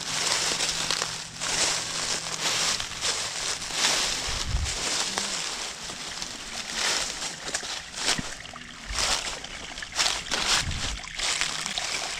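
Water runs steadily at a natural water source, a continuous close rushing and trickling wash with occasional sloshing splashes rising out of the flow.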